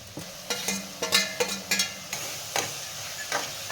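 A spoon stirs sama khichdi ingredients frying in oil in a pan, giving a series of sharp scraping clacks over a soft sizzle, close up and with no talking.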